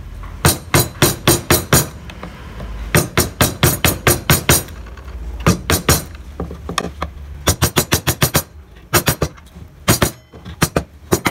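Mallet blows strike a chisel cutting a barong motif into wood, dozens of sharp, close taps in quick rhythmic bursts with short pauses between runs.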